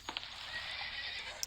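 A horse neighs in the video game Minecraft, a bright whinny lasting over a second inside a stable setting, with a faint clop at the start and end over low background noise.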